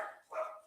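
Dogs barking outside, a couple of quick muffled barks heard faint and distant, brief and alone without talking.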